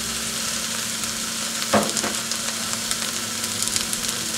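Garlic and celery fry in a pan for stuffed cabbage with a continuous close sizzle, one louder stir near the middle and faint crackles after.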